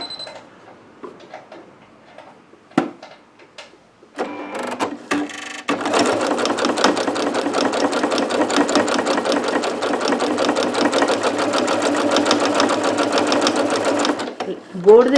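A sewing machine stitches patchwork made from used clothing along a drawn diagonal line, running in one steady, rapid, close-up burst for about nine seconds after some brief handling clatter and faint talk.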